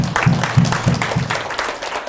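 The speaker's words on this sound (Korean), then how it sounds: "박수" A few people clap together at a church teacher lecture in a brief rhythmic burst of about four or five beats, close and fairly loud, with a low voice-like tone under the claps before it trails off.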